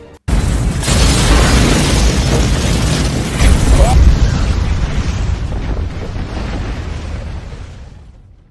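A house blows up in a film, a sudden loud close blast followed by a long roaring rumble of debris and fire that slowly fades away.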